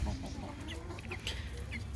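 Chickens in a backyard flock cluck and murmur softly at a distance, short scattered calls over a steady low background hum.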